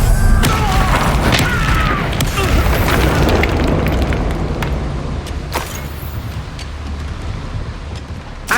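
A Bombarda spell blast in Hogwarts Legacy, a loud booming explosion with crackling debris sustained over several seconds amid game combat effects, slowly fading with scattered sharp impacts.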